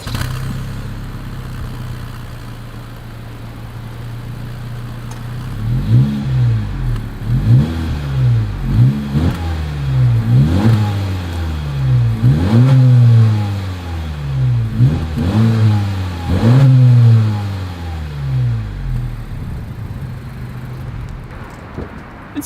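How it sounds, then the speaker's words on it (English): A 2023 Honda Civic hatchback in sport trim revs its exhaust about ten times in a steady rhythm, each blip rising and falling. The revs come close and loud after a few seconds of quiet idle. "As always, here is that exhaust clip."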